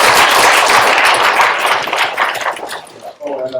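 Dense broadband applause from a lecture audience at a university talk on metacognition and agency, loud and continuous before thinning out, with a voice starting up at the end.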